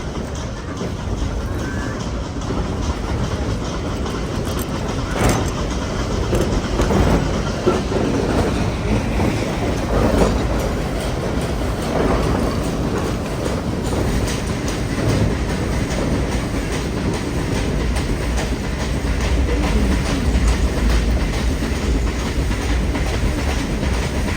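The Nilgiri Mountain Railway train on the Mettupalayam to Ooty line rolls along steadily, its loud continuous rumble and rhythmic clickety-clack of wheels on rails heard from inside the carriage.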